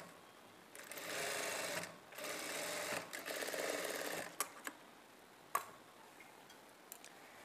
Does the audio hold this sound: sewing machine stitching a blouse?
yes